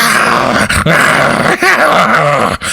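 Dogs growl loudly and continuously during a Dungeons & Dragons tabletop game session, a harsh, sustained snarling sound effect with a few short breaks and guttural rises that fills the whole stretch on its own.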